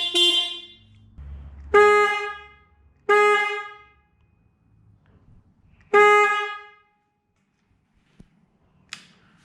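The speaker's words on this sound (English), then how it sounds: "Well, that is a whole lot louder than the stock horn, that's for sure." Denali Soundbomb Mini horn fitted to a 2019 Harley Davidson Sportster Iron 883, giving four loud, close honks of about a second each with pauses between, followed by a couple of faint clicks.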